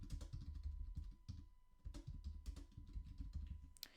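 Someone types on a computer keyboard entering a task into a tracker, producing a brisk run of close, quiet key clicks in uneven bursts with short pauses and no voices.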